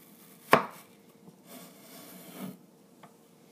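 A knife chops once, sharply and close, through a potato on a small cutting board while homemade French fries are prepared, followed by quiet rubbing and scraping on the board.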